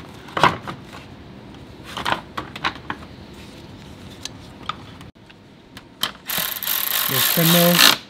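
10 mm nuts are tightened on the plastic airbox parts of a 2022 Subaru WRX: short bursts of ratcheting clicks come with pauses between them, and a loud whirring buzz takes over in the final seconds.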